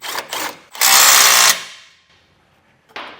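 A power tool drives bolts back down while a base plate kit goes onto a 2024 Ram 1500: two short whirring bursts, then one loud sustained spin, a quiet pause and another short burst.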